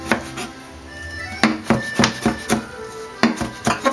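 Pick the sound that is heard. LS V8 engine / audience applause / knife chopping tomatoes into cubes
knife chopping tomatoes into cubes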